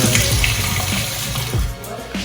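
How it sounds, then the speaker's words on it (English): Water runs and sprays steadily during end-of-job cleaning, a continuous hissing wash with a few small splashy bumps, close and moderately loud with no talk. "Have water for spray. Yeah, spray too."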